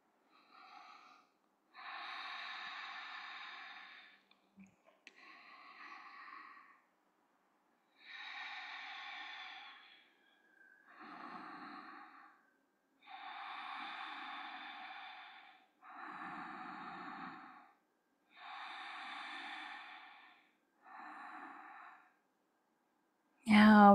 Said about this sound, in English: Let's tune into a few more deep breaths.